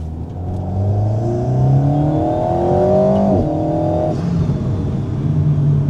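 An Alpine A110 engine pulls hard in second gear, its tone rising steadily under acceleration, then briefly dipping and climbing again at a shift, loud and close from inside the car.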